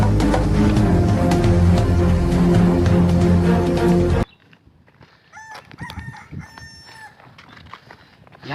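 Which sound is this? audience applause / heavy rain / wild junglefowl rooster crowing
wild junglefowl rooster crowing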